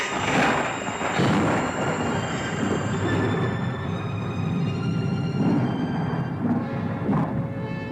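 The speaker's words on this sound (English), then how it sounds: "It's the lightning." Thunder from a lightning storm rolls on steadily, a heavy rumbling roar with repeated crashes that keeps a sustained, noisy texture throughout and has no voices over it.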